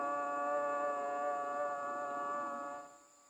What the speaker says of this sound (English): The signal is a long, steady blast on the civil defense sirens or other warning devices.